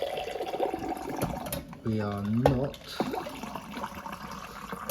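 Line-cleaning liquid is pulled through a pub beer engine, a gurgling, splashing pour with a rising pitched sucking tone partway through and mechanical clunks of the handpump, while someone talks briefly over it.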